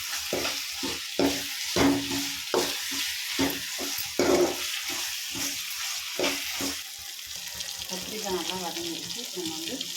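Eggplant pieces sauté in hot oil for tamarind curry, a steady sizzle broken by repeated scraping stirs of a spoon against the pan, ending in softer bubbling and clinks.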